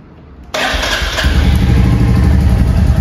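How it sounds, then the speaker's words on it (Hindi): A Royal Enfield Hunter 350 motorcycle engine fires up after a brief quiet moment, catching abruptly and settling into a loud, steady thumping idle close by. "हाई बीम के लिए स्टार्ट करना पड़ेगा बाइक को।"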